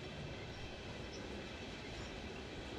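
Train running on rails in New York, a steady, continuous rumble of wheels and carriage noise that stays level and fairly close throughout, with no voices.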